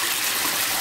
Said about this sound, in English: Just imagine how much water is wasted. I mean, this has been running for